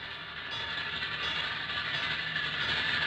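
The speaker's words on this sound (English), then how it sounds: "Sounds like a railroad crossing bell. It is. Hear the train?" A railroad crossing bell rings with a steady metallic tone while a train rolls past, its wheels giving a continuous rumbling clatter at moderate distance, with no talking.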